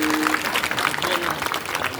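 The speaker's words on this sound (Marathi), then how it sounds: "समोरच्याच टाळ्यांचा आवाज येतो." An audience at Nandini Tai's kirtan claps in a short, dense, continuous burst of applause with a faint voice underneath.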